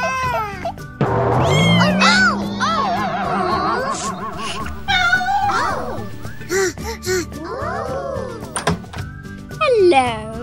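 A cartoon cat in a Bluey Christmas episode meows in several rising and falling cries, mixed with lively voices talking and a few dull thumps.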